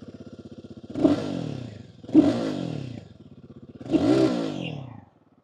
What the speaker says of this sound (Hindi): ये जो एग्जॉस्ट नोट सुना आपने comes from the liquid cooled 450 CC engine